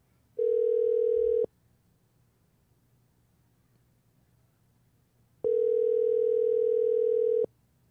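An outgoing telephone call rings back through the earpiece: two identical steady tone bursts about a second long, separated by roughly four seconds of near silence, clean and unaccompanied by talk.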